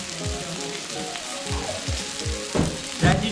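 Crocodile meat on a grill sizzles and crackles steadily as pieces are turned with tongs, with a few quick scraping clatters near the end, all close by.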